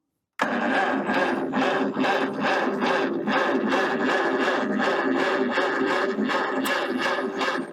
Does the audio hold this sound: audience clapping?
no